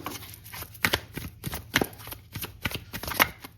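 Tarot cards are shuffled by hand at close range, giving a run of papery riffles and soft slaps in quick uneven bursts for a few seconds, with no talking.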